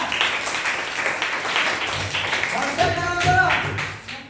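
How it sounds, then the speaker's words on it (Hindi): Students in a classroom clap together for a correct answer, a brief burst of scattered hand claps with a voice speaking over the end. "ताली बजा दो एक बार।"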